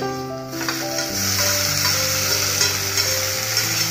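Chopped tomato goes into browned onions in a frying pan, and a steady, loud sizzle of frying fills the clip, with faint stirring scrapes and no voices.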